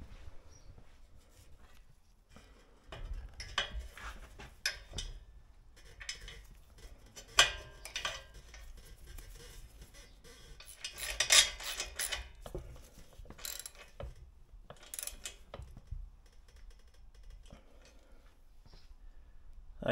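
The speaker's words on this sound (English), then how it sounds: "I'm going to dig through all of this and find the right bolt" Small metal parts clink and rattle as hands rummage through a box hunting for a bolt in a scooter rebuild workshop, a fairly quiet, irregular jumble of clatters with a few louder bursts and no speech.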